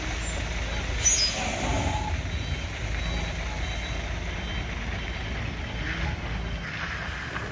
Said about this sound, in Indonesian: Sementara truk tangki tersebut dimundurkan kembali ke bawah